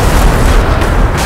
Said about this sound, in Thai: แรงดันที่อยู่ภายในทำให้ถังน้ำมันระเบิด